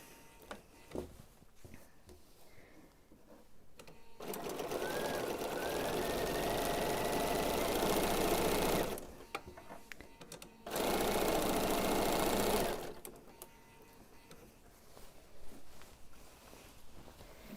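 A sewing machine stitches pieced quilt backing fabric in two sustained runs, a loud steady mechanical whir that stops briefly between bursts, with quiet handling of fabric before and after.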